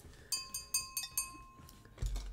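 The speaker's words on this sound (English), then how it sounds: "coaster's come in with my glass" A drinking glass clinks down on a coaster with a run of five bright, ringing taps close together, then a pause and a duller knock with a low thud at the end, close and fairly quiet.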